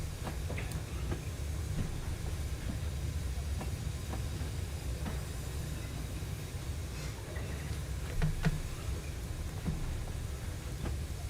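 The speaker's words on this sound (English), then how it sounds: "watching the train going into the station" A model LNWR 380 Class locomotive runs steadily with a low rumble and faint rail clicks, moving at modest speed toward a station, with a brief louder passage near the end.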